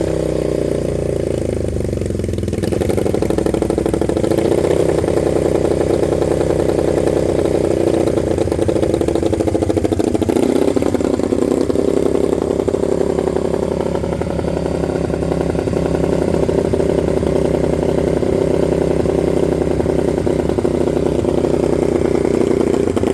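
A Honda CB350 cafe racer motorcycle with a newly installed Mikuni carburetor runs steadily at close range, a loud, continuous idle with slight rises in revs throughout and no speech over it.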